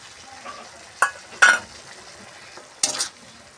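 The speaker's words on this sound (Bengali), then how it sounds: "এইবারে আমি ওর সঙ্গে মিশিয়ে দেব ভেজে রাখা চিংড়ি।" Fried prawns being mixed into a spicy prawn curry with potatoes and spices: three or four sharp spatula scrapes against the pan over a low, soft sizzle.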